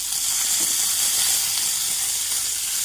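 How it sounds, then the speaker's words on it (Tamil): Mustard seeds splutter in hot oil with a steady, close hiss and sizzle that fills the whole moment. "கடுகு வந்து நல்லா வெடிக்கட்டும்."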